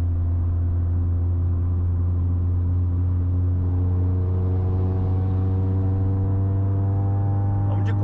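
A car engine hums steadily with a low, even drone, its pitch rising slightly as it accelerates, continuous throughout at moderate loudness.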